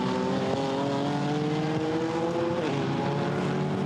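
GT4 race cars, including a Mercedes and an Alpine, running at the Misano circuit: a loud, continuous engine drone with steady rising pitch lines and a small shift near the end, no talk.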